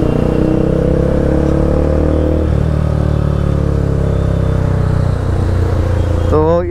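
Tuned ECU-remapped Bajaj Pulsar NS 200 motorcycle engine running loud and close, its steady drone dipping in pitch midway, with a brief rising rev at the very end.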